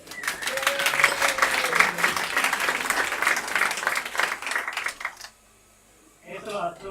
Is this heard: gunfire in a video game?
no